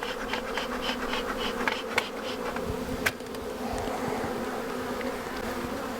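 Honeybees buzzing in an open hive that may have swarmed and gone queenless, a dense steady drone close by with a few sharp clicks of handling and no speech.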